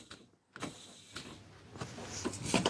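A pneumatic seat in a KamAZ truck being raised, heard as a short, faint hiss of air and a low mechanical whir, with a soft creak and a click near the end.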